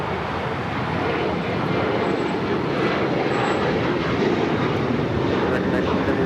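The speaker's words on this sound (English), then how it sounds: "This is American Airlines 1979 taking off to Chicago on the 737-800." An American Airlines Boeing 737-800 jet takes off at LAX, a steady, loud, wideband engine roar that holds constant throughout, with talk over it.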